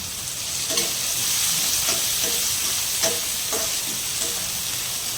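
Green and dry onions fry with ginger and garlic for Girnari khichdi, a continuous bright sizzle with occasional soft stirring taps, close by and without talk.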